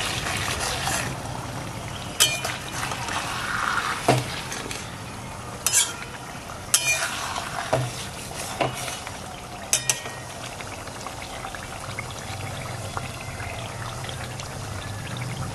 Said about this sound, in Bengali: নেড়ে দিলাম একটু, না নাড়লে তলায় লেগে যেতে পারে।